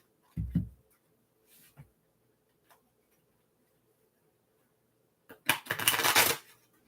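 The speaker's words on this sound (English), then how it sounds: "there's too many cards for me to actually shuffle it properly" A large deck of playing cards riffled at a trivia night: a few soft taps early on, then a dense, loud burst of flapping, rattling shuffle near the end.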